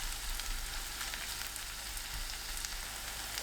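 Cabbage pancake batter fries in hot oil in a pan over medium-low heat, giving a steady, dense sizzle that stays constant throughout with no voices.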